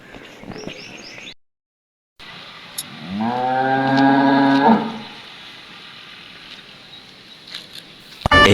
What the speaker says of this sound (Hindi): और ये देखिए जी यहाँ पर सुबह सुबह का टाइम है, और गाय भैंसे अपना चारा खाने के लिए आई हुई हैं।